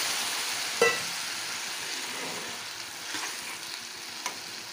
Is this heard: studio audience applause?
no